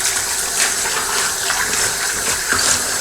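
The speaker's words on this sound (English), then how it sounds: "throw some water on it" Tap water splashes and gushes steadily over the media of an Eheim 2213 aquarium canister filter, a close, continuous broadband wash with no pauses.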